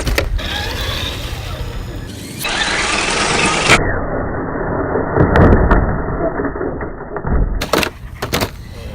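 A Traxxas TRX-4 Sport RC crawler truck grinds along with a steady whirring motor buzz, broken by scraping, knocks and bumps as it clambers over rough ground, close to the microphone and fairly loud.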